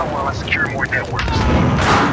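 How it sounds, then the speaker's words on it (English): Grenade blast in the video game Battlefield Hardline during an Xbox One multiplayer match: a broad, rumbling boom swells near the end, following chirpy game effects and voice chatter. "Here comes the grenade!"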